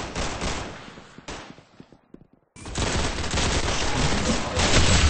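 Rapid gunfire bursts from a shooting video game, loud and dense, pausing briefly in the middle before resuming as sustained heavy automatic fire.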